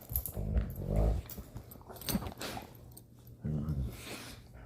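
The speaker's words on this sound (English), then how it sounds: "The sounds this dog makes." A lab puppy whimpers and growls in short bursts while playing with another dog, the sounds close and lively, with pauses between outbursts.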